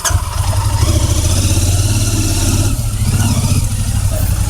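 Royal Enfield Interceptor 650 motorcycle, showing a misfire at its second service, runs loud and close, with a steady low engine rumble and a slight dip near the end.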